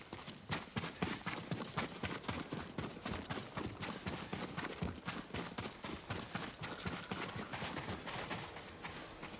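Horse hooves clip-clopping at a brisk, even gait in the Ghost of Tsushima video game, a steady rhythmic series of hoof strikes close by, moderately loud and continuous without talk.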